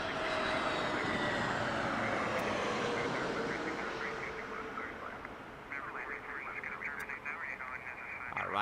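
An airliner takes off from Las Vegas's Harry Reid International Airport, its broad, loud jet roar steady for several seconds, then easing slightly as it climbs away.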